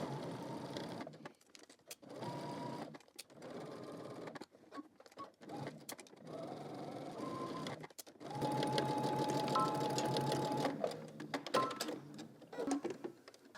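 A sewing machine stitches bra cups around curves in several separate runs, its motor whirring up and down with short pauses between bursts, the longest stretch slow and steady, close and clear with no talking.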